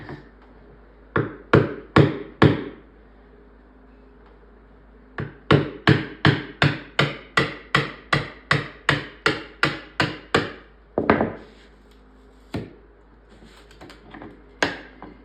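Wooden cleats are knocked off a Taito arcade cabinet with sharp hammer taps, first a short cluster, then a long, steady run of evenly spaced knocks, and a few scattered final blows, all close and crisp with quiet gaps between.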